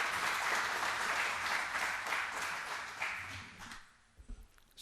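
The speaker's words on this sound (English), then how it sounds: "A round of applause, please." Audience applause at a formal inaugural function as a guest of honour is invited on stage, a dense wash of clapping that fades out near the end, leaving a few scattered sounds.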